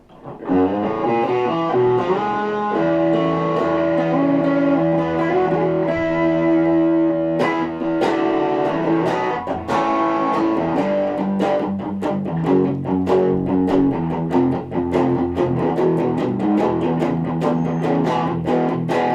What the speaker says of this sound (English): It just sounds like an overdriven amplifier without being absolute muddy or too shrill.